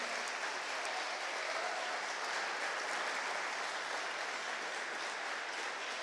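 A church congregation at an evangelical service applauds steadily, a dense, even wash of many hands clapping at a moderate level for the whole stretch, with no voices standing out.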